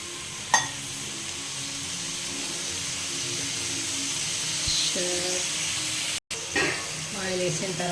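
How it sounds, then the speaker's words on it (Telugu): Peanuts frying in oil in a pan for peanut chutney, a continuous soft sizzle close by, broken by a sharp knock early on and a brief cut near the end, followed by faint clinks. "ఇలా మంచిగా ఆయిల్లో కుక్ చేసుకోవాలి"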